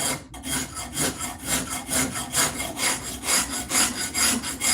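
Shinto saw rasp filing a wooden axe handle, close rhythmic rasping strokes at a steady back-and-forth pace, about ten scraping passes, with no talking.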